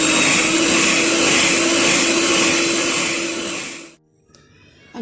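Electric hand mixer whirring steadily while beating eggs into orange cake batter, a loud continuous motor drone that stops abruptly near the end, leaving near silence with faint clinks.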